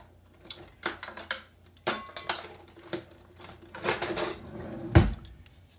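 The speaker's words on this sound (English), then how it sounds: "let me get another spoon" Metal cutlery and dishes clatter up close in a kitchen as a spoon is fetched, a run of irregular clinks and knocks ending with a sharper thud, no voices.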